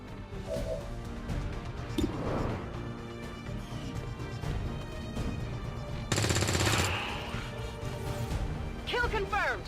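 Rapid automatic gunfire in the tactical strategy game XCOM 2, bursts of shots with crashing impacts and a loud volley near the end, while soldiers' voices shout over the action.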